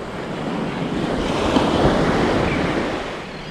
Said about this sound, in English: So that's the state park beach.